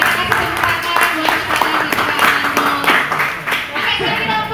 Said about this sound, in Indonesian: Kita kasih tepuk tangan buat